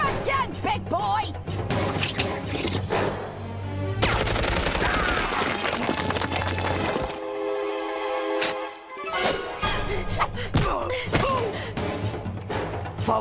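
Bursts of cartoon gunfire and thuds in an animated Tarzan episode, loud rapid volleys with crashes, mixed with energetic music and shouted voices.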